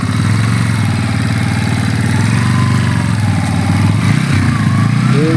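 A newly bought motorcycle's engine runs close by in a steady, throbbing idle, with a slight rise and dip in revs near the end.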